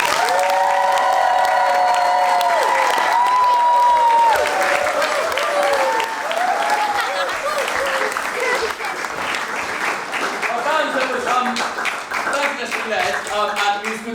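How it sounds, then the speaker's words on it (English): A school audience applauds its band with sustained, full clapping and a little cheering, while voices and tonal sounds, like children chattering or calling, rise and fall through the whole stretch. "So let's just give a round of applause to our band."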